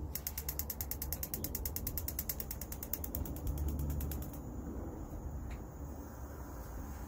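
A gas fire table's igniter on a Canvas Granite unit clicks in a fast, even series of close ratcheting snaps, then the clicking stops and a soft, steady hiss carries on.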